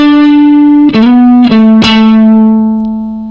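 A distorted electric guitar rings out a sustained note, re-picked three times in quick succession, then left to sustain and slowly fade.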